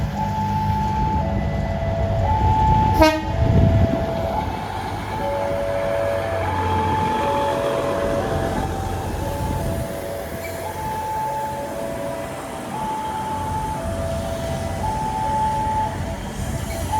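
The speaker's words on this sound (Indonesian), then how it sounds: "Ternyata ada langsiran kereta bandara sepertinya" An airport train rolls past a level crossing loudly and close while the crossing bell rings in repeated regular dings, with a sharp horn-like blast early on.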